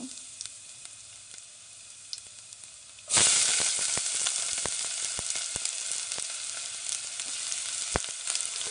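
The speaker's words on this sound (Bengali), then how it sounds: "তেলটা গরম হলে এতে রসুন কুচি ও পেঁয়াজ কুচি দিয়ে দিব" Chopped garlic and onion dropped into hot oil in a pot, bursting into a loud sudden sizzle after a quiet start, then settling into a steady crackling fry with occasional pops.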